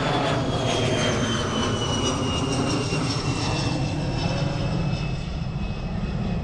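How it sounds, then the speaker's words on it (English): A business jet flies over near Luton, its steady loud engine roar filling the whole stretch with a high whine that slowly falls in pitch, with no voices. "that was a business jet"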